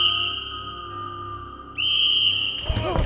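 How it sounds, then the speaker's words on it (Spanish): A whistle blows as a sound effect in a spoken ghost story, a steady shrill tone that breaks off briefly, then returns louder and clearer before ending in a noisy burst. "se oyó el sonido del silbato, tan claro y penetrante como si Sir Robert estuviese tocándolo."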